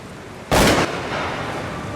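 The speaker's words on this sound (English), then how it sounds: "I heard a gunshot that was pretty close" A single close gunshot on a mountain cracks out loud and abrupt, a broad blast lasting about a third of a second before dropping back to quiet outdoor ambience.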